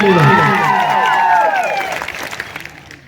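A crowd at an outdoor political rally breaks into loud, sustained clapping and cheering. Whistles and calls rise over the applause, which then thins out toward the end.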